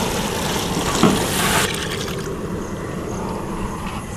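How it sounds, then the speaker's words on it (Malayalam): Water pours into a large biryani pot being readied for a fish dum biryani, a steady close splashing rush that brightens mid-pour and then settles into a softer continuous flow. "നമുക്കിതിലേക്ക് വെള്ളം ഒഴിച്ച് കൊടുക്കാം."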